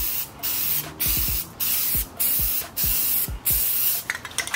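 Aerosol spray paint hisses in six loud bursts of roughly half a second each, evenly spaced, laying a thick coat onto a rough 8x10 canvas, with a rattle or brief clatter at the end.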